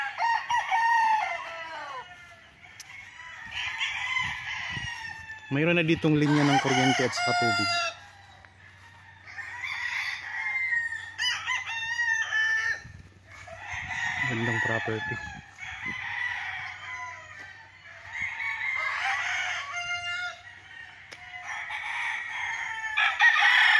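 Chickens and roosters crow and cluck from farm coops on a fenced rural lot, the crows loud and repeated across the clip while someone talks over them.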